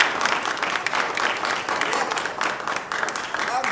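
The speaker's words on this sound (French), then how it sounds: "Qu'on applaudit bien sûr." An audience applauds a guest at a lively after-work comedy show, dense sustained clapping filling the room with voices mixed in.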